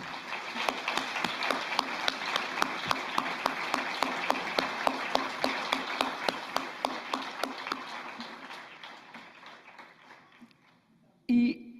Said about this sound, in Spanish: les pido por favor que les demos un aplauso a los ponentes que se atrevieron a hacer eso